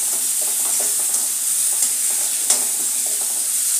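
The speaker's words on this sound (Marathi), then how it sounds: "कांदा आपण परतून घेऊया" Chopped onion frying in hot oil in a pan with asafoetida, a steady bright sizzle with occasional soft stirring clicks and scrapes.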